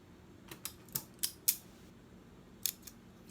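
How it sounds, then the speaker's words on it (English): Scissors snip through a strip of ribbon in a string of crisp, close clicks, several quick cuts followed by a pause and a few more. "I'm gonna cut this strip in half"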